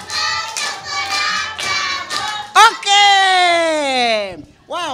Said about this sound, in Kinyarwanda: Mumuha amashyi n'impundu